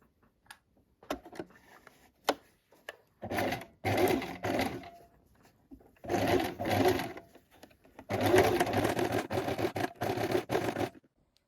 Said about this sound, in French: on va coudre d'abord ici sur le bord pour tenir le volant